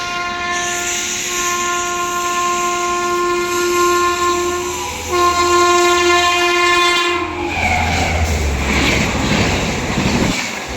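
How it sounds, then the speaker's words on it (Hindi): The Banaras–New Delhi Superfast Express sounds a long, loud multi-tone horn for about seven seconds while overtaking the Amrit Bharat Express. Then the horn cuts off and a rushing, rumbling roar of passing coaches takes over. "सामने से आ गई है बनारस नई दिल्ली सुपरफास्ट एक्सप्रेस अपनी अमृत भारत को ओवरटेक करने"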